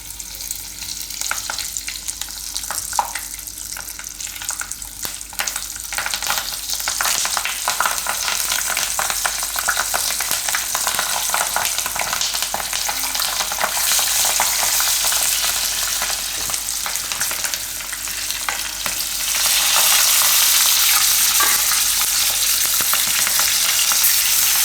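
Red chillies frying in hot oil with asafoetida, a steady loud sizzle with frequent scraping stirs that intensifies near the end.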